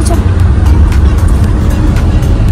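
Steady low road rumble and engine drone from inside a moving car on a hill road, constant and loud throughout.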